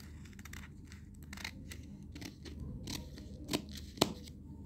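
Scissors snip through fabric at the shoulder of a dishdasha pattern, a series of quiet, close cuts ending in a couple of sharper snips.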